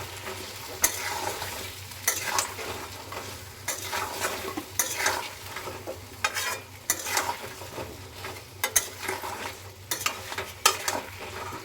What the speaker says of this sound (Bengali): আর আগে থেকে যে মৌরিটা বাটিতে রেখেছিলাম সেই মৌরিটা দিয়ে দিলাম, নিয়ে ভাজতে থাকবো।